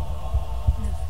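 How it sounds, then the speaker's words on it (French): A deep, muffled heartbeat sound effect thumps twice at low pitch over a steady droning hum, the beats soft and evenly spaced like a slow pulse. "Battement de cœur."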